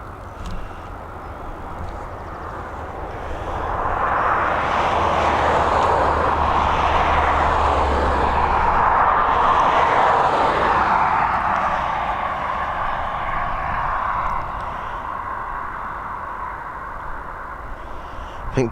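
Jet airliners taxi at Dublin Airport, a broad engine roar swelling in the middle and easing off, heard from a distance.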